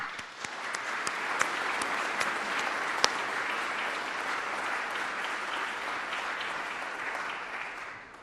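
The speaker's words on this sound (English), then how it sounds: "Let's give them applause." An audience applauds electors at the North Carolina Electoral College session, a dense, steady clapping that runs evenly for the whole stretch with a few sharper individual claps standing out, then tapers slightly at the end.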